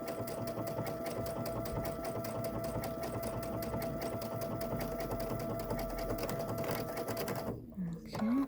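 A sewing machine stitches an appliqué owl pin cushion in a steady, rapid mechanical run lasting most of the clip, close and fairly loud, before stopping near the end with a brief shift in sound.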